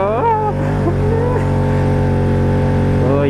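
A 1000cc 4x4 ATV engine revving on an off-road track, loud and close, with rising and falling pitch sweeps at the start and again at the end over a sustained drone.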